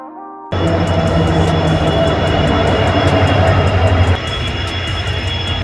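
The Siliguri Intercity Express rolls toward Cooch Behar station with a loud, steady rumble and a regular clatter of wheels on the rails. The sound starts abruptly after a moment of quiet.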